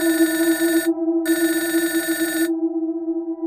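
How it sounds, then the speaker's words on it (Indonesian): A home landline telephone rings loudly with a classic electronic trill in two long bursts and a short gap between them. A sustained tone lingers after the second burst ends. "telepon berdering keras tidak karuan"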